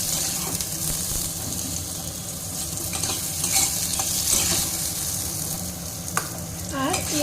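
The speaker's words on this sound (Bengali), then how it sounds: "একটু তেলে এই যে আমড়াটাকে একটু হালকা করে নেড়ে নেব।" Hog plum (amra) sizzles and spits in a little oil while being stirred, a loud, constant frying hiss close by with occasional scraping knocks from the spatula.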